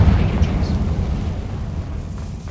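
A deep, rumbling blast from the Confringo spell in Hogwarts Legacy, a sustained low boom filling the short stretch with heavy, roaring energy and no voices.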